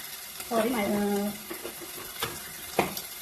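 Spice powders being stirred into a frying goat brain dish, with soft scrapes and a low sizzle under a brief stretch of talk, then a couple of sharper stirring knocks.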